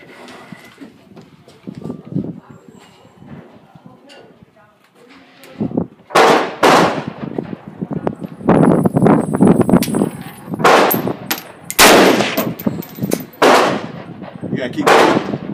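A Yugoslavian SKS M59/66 semi-automatic rifle fires about a dozen loud, sharp shots outdoors at irregular intervals after a quieter opening with some talking and handling noise.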